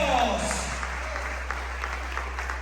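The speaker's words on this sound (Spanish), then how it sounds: "Denle ese aplauso." A church congregation applauds, a steady patter of many hands clapping as a voice fades out at the start, accompanied by a constant low hum.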